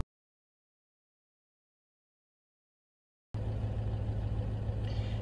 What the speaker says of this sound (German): springt das Auto wieder an.